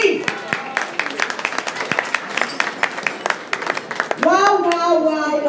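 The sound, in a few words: audience applause at a book launch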